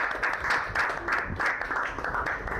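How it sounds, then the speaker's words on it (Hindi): A crowd at a student class event claps steadily to welcome a speaker, the dense applause continuing evenly throughout. "तालियों के साथ इनका स्वागत करें"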